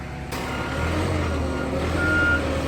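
A front loader truck on a construction site sounds steady reversing beeps over a loud, continuous diesel engine rumble, close by and with no talk.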